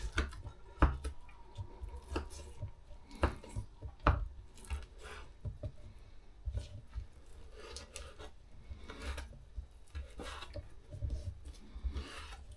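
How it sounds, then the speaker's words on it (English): Irregular dry knife strokes chopping dates against a board, soft cuts and taps scattered through, quiet and close with no talking. "chop up the dates"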